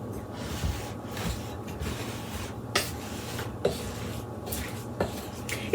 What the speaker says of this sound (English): Okay, we're going to give this a mix.